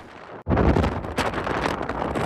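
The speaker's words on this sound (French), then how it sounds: "on est reparti dans le désert et la tempête de sable" Desert sandstorm wind, a dense roaring buffet battering close and loud after a brief quiet start, gusting unevenly without letup.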